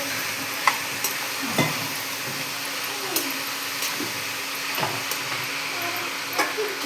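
Cauliflower frying with turmeric and coriander powder is stirred in a pan, a steady close sizzle broken by repeated scraping strokes of the spoon every second or so, with no voices.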